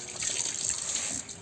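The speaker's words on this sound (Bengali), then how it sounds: "এখানে এখন পাতা কাটাকাটির পরে পাতা ধোয়ার পর্ব চলছে।" Freshly cut banana leaves are rinsed under running water in a village kitchen, a steady splashing stream from a tap or pour that continues without pause, with no voices.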